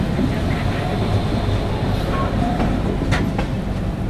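Sachkhand Express passenger train running on rails between Nanded and Amritsar, heard from on board: a steady, loud rumble of wheels on track with faint clickety-clack, continuous throughout with no voices.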